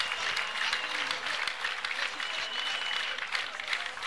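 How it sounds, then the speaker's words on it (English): Dense, steady applause from a large crowd keeps going without a break, loud and close, with cheering voices mixed in. "Is that a big clap offering to Jesus?"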